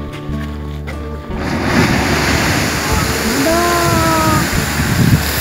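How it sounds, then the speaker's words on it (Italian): Strokkur geyser in Iceland erupting outdoors, a loud surging roar of rushing, splashing water that swells after a quiet start and holds steady, with a voice shouting briefly and people talking over it. "Abbiamo appena visto un po' di eruzioni favolose dello Strohkur."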